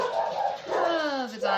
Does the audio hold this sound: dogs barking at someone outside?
yes